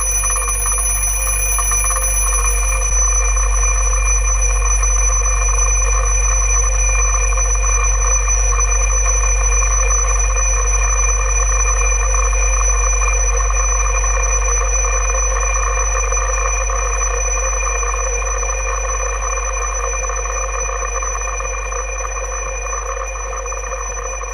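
An alarm clock rings continuously and loudly, a steady metallic bell tone that holds without pause from start to finish, with no voices.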